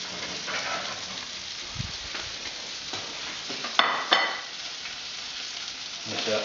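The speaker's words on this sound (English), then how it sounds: "Just give that a little stir." Food being stirred in a pan with capers on an Aga, a soft continuous sizzle with faint scraping and two brief sharp clinks of the utensil partway through, fairly quiet and close.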